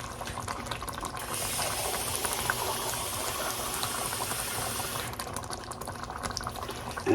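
Water runs from a tap into an empty tomato sauce can, a steady rushing, filling hiss that holds evenly for several seconds before easing, close and with no voices.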